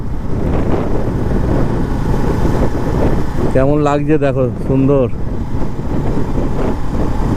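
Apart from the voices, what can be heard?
wind blowing while riding a motorbike over a bridge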